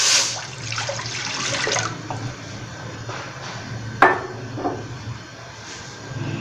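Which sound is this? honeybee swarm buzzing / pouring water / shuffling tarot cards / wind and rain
pouring water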